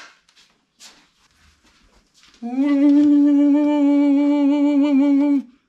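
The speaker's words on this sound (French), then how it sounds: "C'est le bruit d'une transmission qui sature." After some faint background noise, a Nitro scooter with a 19mm Dell'Orto carburetor revs and holds a high, strained whine from a saturating transmission for about three seconds, close and loud, then cuts off.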